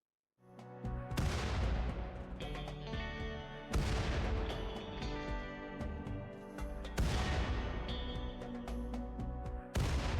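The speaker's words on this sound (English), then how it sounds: "Explosive mortar shells." Explosive mortar shells falling in the RimWorld video game: several loud booming impacts spaced a few seconds apart, each followed by a sustained rumbling roar, with no speech.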